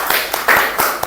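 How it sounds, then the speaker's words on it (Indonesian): A classroom group gives a brief round of applause, a few distinct close hand claps in quick succession within about a second, fairly loud in a small room. "beri tepuk tangan kembali"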